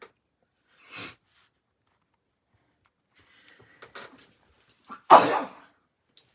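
A single loud, sharp sneeze up close, preceded by a couple of faint sniffs and small sounds in an otherwise quiet room.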